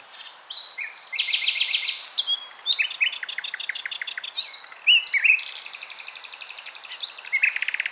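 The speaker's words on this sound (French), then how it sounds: "Ou quelques rossignols, comme le rossignol philomèle." Common nightingale singing: varied, rapid song phrases of whistles, trills and clicking repeated notes, clear and fairly close over a quiet background.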